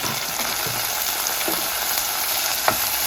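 Chopped garlic and tomato sautéing in oil in a pan for a Jaffna-style yam curry, a constant close frying sizzle broken by a few light spoon scrapes, no talking.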